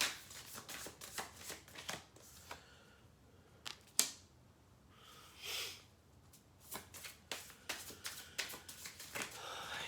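Tarot cards are shuffled and drawn up close, with quiet rapid riffling flutters and soft slaps in irregular bursts, a few sharper snaps standing out against a hushed background.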